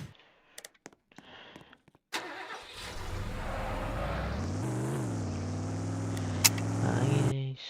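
A supercar engine in a video game starts with a few sharp clicks, then roars into a loud, steady revving drone that swells and climbs in pitch.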